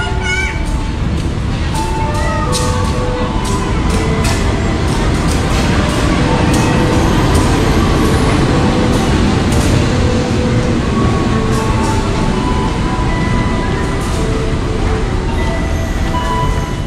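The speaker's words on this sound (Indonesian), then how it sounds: "ini keretanya udah datang dari arah" A KRL commuter train arrives from Rangkas Bitung at a station platform with a loud, continuous rumble, repeated clicks and squeals, and crowd noise and voices underneath.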